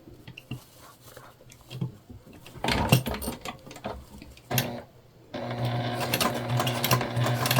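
Sewing machine stitching and backstitching the lining of a small fabric bag, with scattered handling rustles and short stitch bursts, then a steady close mechanical whirr in the final seconds.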